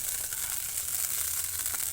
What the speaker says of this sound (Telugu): మనము చారులో తాలింపు ఎట్లా వేస్తాం